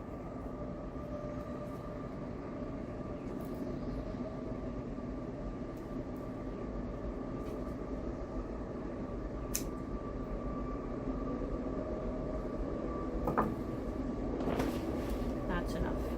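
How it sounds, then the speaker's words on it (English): A Via Rail passenger train passes at a distance, a steady low rumble with a sustained hum running throughout, a few brief clanks and squeals rising near the end. "Sounds more like a Via Rail train than the normal cargo trains that go by"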